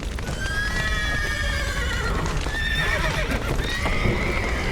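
Several horses whinny and neigh in bursts in the video game The Witcher 3: Wild Hunt, over a busy, noisy background, with hoof clatter mixed in.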